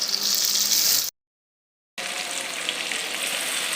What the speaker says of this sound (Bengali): চুলার জালটা মিডিয়ামে রেখে আরও কিছুক্ষণ এটাকে ভেজে নিব